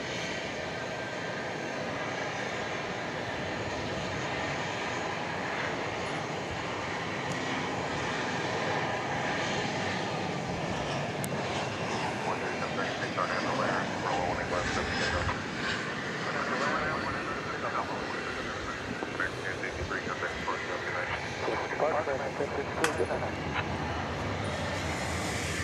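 Aircraft engine noise at DFW airport, a steady broadband jet roar running throughout at moderate distance, with people talking over it.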